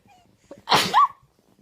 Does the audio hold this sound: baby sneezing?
yes